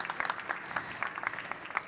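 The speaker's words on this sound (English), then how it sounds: "please a big applause for our speakers" A conference audience applauds its speakers at an IoT and city platforms event, a quiet, fairly distant ripple of many hands clapping steadily with no voices on top.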